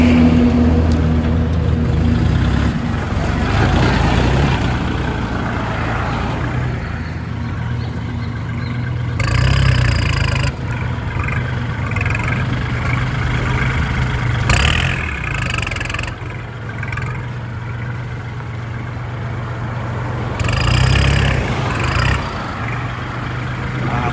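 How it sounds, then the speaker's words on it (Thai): A Kubota L4018 tractor's diesel engine idles steadily up close, with a low rumbling drone and a few brief shifts in intensity; no one speaks. "เครื่องยนต์ดีเกียร์ดีครับผมไม่หอนไม่เจ็บ"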